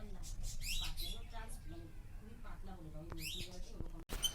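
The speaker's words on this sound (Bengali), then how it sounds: "লাভ বার্ড ডিম পেরেছে বাচ্চাও ফুটেছে আওয়াজ পাচ্ছিলাম" Newly hatched lovebird chicks kept in a small cage chirp in thin, high peeps and short bursts, mixed with faint voices and household noise.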